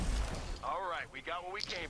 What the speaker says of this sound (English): And Jack ends up taking him out with the 40mm cannon.